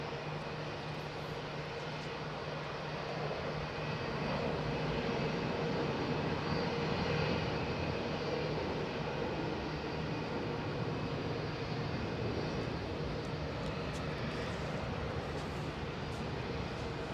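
An aircraft on approach to land at Melbourne International Airport, its engines a steady, broad roar that swells slightly in the middle and holds at moderate distance, with no speech.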